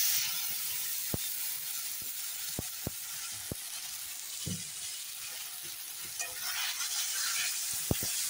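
Tomato paste going into potatoes frying in a pan, a steady bright sizzle and hiss punctuated by several sharp spoon taps and clicks against the pan, close and even throughout.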